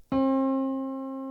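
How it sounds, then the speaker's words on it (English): A single sustained piano note, middle C, struck once, ringing clearly with a bright attack and slowly fading, heard alone. "Here's middle C for a reference."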